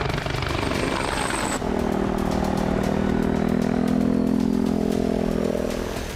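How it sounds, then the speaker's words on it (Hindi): An attack helicopter flies nearby, its engine whine and thudding rotor steady and loud throughout. "टैंक रोधी मिसाइलों से लैस इस हेलीकॉप्टर को स्पीड के लिए जाना जाता है"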